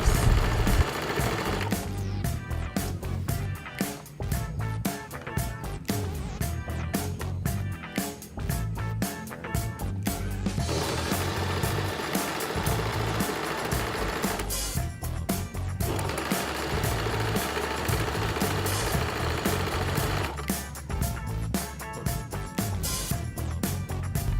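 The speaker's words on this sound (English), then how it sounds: "the sound of the sewing machine is so soothing to the ears" A sewing machine stitching a men's t-shirt runs in long, rapid bursts of rhythmic mechanical stitching, close and loud, pausing briefly between runs.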